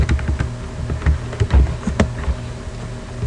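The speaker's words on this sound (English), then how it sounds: "Just going to write the word page" Keys on a computer keyboard are tapped in a short burst, spelling out one word during a word-processing session, with close, crisp clicks in an uneven rhythm and no talking.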